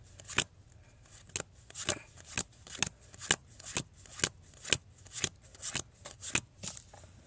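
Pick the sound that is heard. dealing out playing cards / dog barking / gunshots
dealing out playing cards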